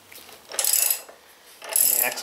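A homemade tool works loose the lower fork pinch bolt on a 2016 Indian Scout Sixty motorcycle, giving two short bursts of metallic ratcheting and grinding, close and distinct, separated by a brief quiet gap.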